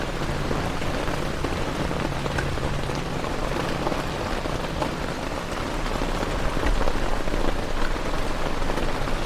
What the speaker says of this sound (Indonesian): Hujan nih dapat di luar nih.